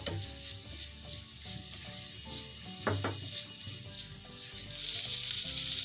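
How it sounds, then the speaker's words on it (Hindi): Fish pieces fry in a pan on a stovetop, a steady close sizzle with occasional stirring clicks, and the hiss flares louder toward the end. "पाँच से 6 मिनट लगेंगे इसको भूनने में।"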